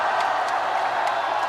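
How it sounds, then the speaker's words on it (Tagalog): A basketball arena crowd at an MPBL game between San Juan and Nueva Ecija reacts to a replay with a steady, loud, far-off roar and murmur that lasts throughout. "The crowd reacting to the replay."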